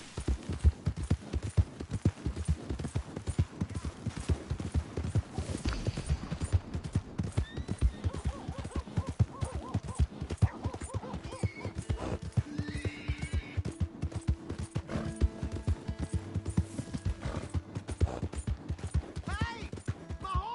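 Horse hooves clip-clop and a horse neighs and whinnies in the Red Dead video game, steady hoofbeats running throughout with scattered distant gunfire and a voice speaking briefly.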